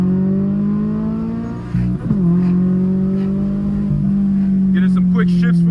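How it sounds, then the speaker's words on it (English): A 2023 Toyota GR86 Premium with the GR86 performance exhaust pulls hard from inside the cabin, its steady engine drone dipping briefly around a quick shift before climbing again, with faint higher chirps late on. "It did come with the GR86 performance exhaust, and it comes with a bit of a horsepower gain, and then obviously you get the beautiful tone."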